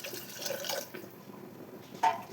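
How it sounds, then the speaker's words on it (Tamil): Water splashes and trickles faintly into a pot of green pea kurma being cooked, a soft wash of pouring with a brighter splash near the end, no voices over it. "தேவைக்கேற்ப தண்ணி சேர்த்துக்கலாம்."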